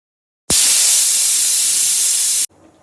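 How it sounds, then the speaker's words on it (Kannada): A pressure cooker whistle releasing steam as peas masala cooks, a sudden loud, steady hiss that blasts for about two seconds and then cuts off abruptly, leaving faint background noise. "2 ವಿಜಿಲ್ ಇಕ್ಕೊಳ್ಳಿ ಸಾಕು"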